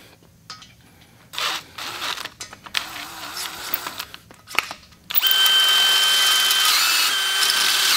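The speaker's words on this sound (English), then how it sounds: "the best thing to do is to run the bit at full speed and don't apply down pressure" A drill bit spins at full speed boring into an LS engine cylinder head for a head stud upgrade fixture, starting with short bursts and then a steady loud whine.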